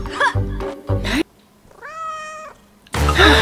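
A cat meows once in a life simulator video game, a clear rising-and-falling call heard alone between stretches of loud, close talking.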